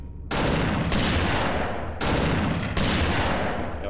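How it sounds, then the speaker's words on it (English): Four loud, booming double-barrel scattergun blasts, heard in two pairs of quick shots in the game Dystopia, each with a short, heavy tail. "if you right-click, you're shooting two shells"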